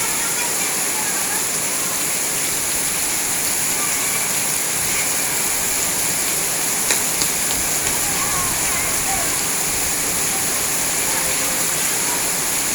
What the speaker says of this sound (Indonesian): Hujannya cukup deras sehingga membuat halaman sekolah tergenang air.